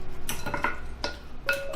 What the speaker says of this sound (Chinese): 然后给它们搅拌均匀